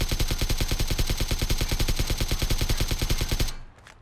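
Rapid sustained automatic gunfire pours into the loot truck in PUBG, a loud, even stream of shots lasting about three and a half seconds before cutting off abruptly into quiet.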